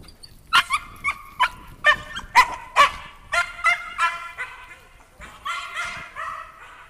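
A dog barks in a quick irregular series of sharp, close barks and yips, loud and echoing slightly, with quieter whimpering barks trailing at the end.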